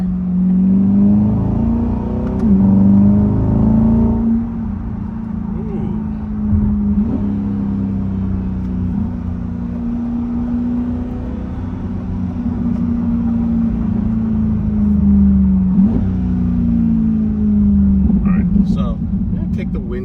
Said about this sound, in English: so we can hear the exhaust